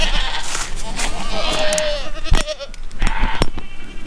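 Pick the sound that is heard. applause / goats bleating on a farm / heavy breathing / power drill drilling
goats bleating on a farm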